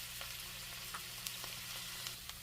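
Korean chive pancake batter fries in oil in a pan, giving a steady close sizzle with faint crackles and a few light taps as the pan is shaken.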